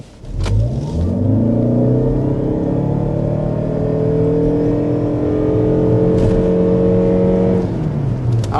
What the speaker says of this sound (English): we are going to go ahead and start with a hard acceleration